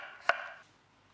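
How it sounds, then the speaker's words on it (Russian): A knife cuts through fresh cucumber on a board, one crisp chop that rings briefly before fading, close and alone. "Нарезаем его тоненькими слайсиками."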